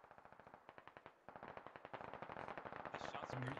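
Gunfire in the military shooter Squad: a steady rhythm of rapid rifle shots that grows denser and louder into sustained automatic fire, with a brief voice near the end.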